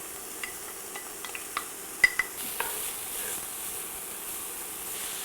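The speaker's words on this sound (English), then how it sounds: "I just want to cook these until they're starting to brown, but they're not burning." Finely minced yellow onion and six cloves of minced garlic sauté in a pan with a quiet, steady sizzle, broken by a few light clicks and taps from stirring early on. No one speaks.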